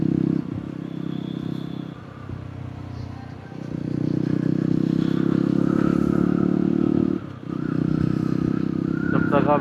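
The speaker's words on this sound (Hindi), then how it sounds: "जब तक आप एच डी रोस्टर के एग्जॉस्ट साउंड का मजा लो।" A Yezdi Roadster Shadow Black motorcycle thumps out a steady, deep exhaust drone while it is ridden. The tone dips briefly between gear changes and shifts in throttle, with wind noise and faint road clatter on top.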